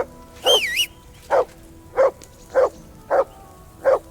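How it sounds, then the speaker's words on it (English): Dog in the video game Kingdom Come Deliverance II barks six times in a steady, evenly spaced series, each bark close and clear, the first slightly longer and whining at the top, with no talk over it. "Whistle at that mutt of yours to stop barking!"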